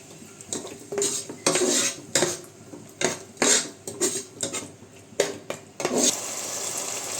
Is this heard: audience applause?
no